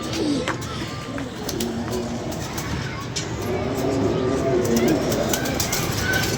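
Paired pigeons coo in a low continuous murmur from a loft, with faint traffic in the distance while people talk nearby.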